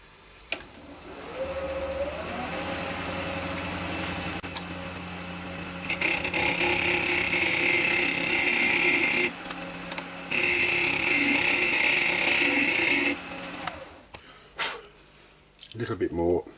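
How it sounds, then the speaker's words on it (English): A wood lathe spins a pen blank with a brass tube while a skew chisel flattens the end, giving a steady motor whine with louder cutting stretches, and someone talks over it before it winds down near the end. "just going to get me little skew chisel and just flatten that off nicely"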